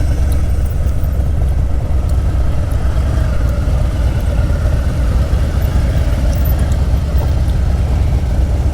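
A motorcycle ridden slowly around a parking lot gives a loud, steady low engine rumble and throb throughout, close by and unbroken, with no voices.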